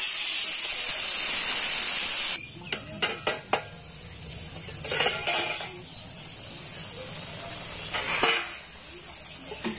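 Boiled bitter gourd frying in oil in a home kitchen, a hiss and sizzle with several sharp spatula scrapes and stirring bursts against the pan; no voices.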